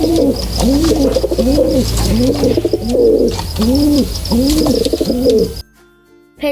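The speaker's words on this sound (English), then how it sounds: "Pigeon," A pigeon coos close by in a steady rhythm, repeating about six soft throaty phrases before falling silent.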